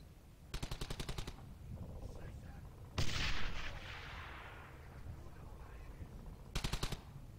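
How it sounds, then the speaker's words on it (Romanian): A grenade blast in the video game Brothers in Arms: Hell's Highway: one sharp, loud explosion with a fading rumble, set between short rattling bursts of automatic gunfire. "Da, hai că le dăm o grenadă atunci"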